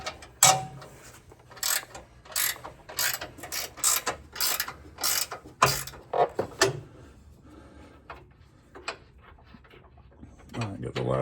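Ratchet removing 18 mm nuts from the lower valance of a 2023-2026 Ford F250, heard as close, loud bursts of rapid clicking in a steady rhythm for several seconds, then sparser clicks and handling noise.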